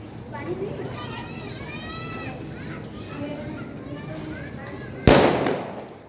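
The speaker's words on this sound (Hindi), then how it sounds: "आतिशबाजी भी हो रही है" People talk and children's voices carry over a background murmur on a Karva Chauth evening, then a single loud firework bang bursts near the end and fades.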